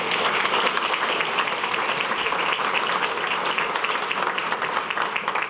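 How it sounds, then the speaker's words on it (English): Steady, dense applause fills a room at a chamber of commerce dinner, many hands clapping together at an even level throughout, with no speech over it. "Please, a round of applause."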